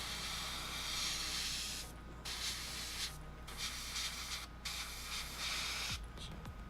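An airbrush sprays paint onto a model Abrams tank in repeated hissing bursts separated by short pauses, close and steady, with a faint knock or two near the end.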